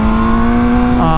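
MV Agusta Brutale 1000 Serie Oro motorcycle engine revving hard with a steady high tone that drops as a manual gear shift comes through, loud and close, brief and alone.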